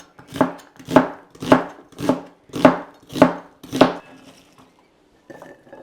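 A knife slices through a medium onion on a cutting board, seven even, close chopping strokes in a steady rhythm, then a quiet pause with faint kitchen handling noise.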